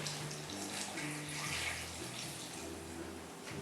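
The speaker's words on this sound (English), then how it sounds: "all I'm going to do is finish it off with hot water" Hot water pours steadily into a pot of homemade stock, a continuous splashing rush that stays fairly quiet and even throughout, with no talking.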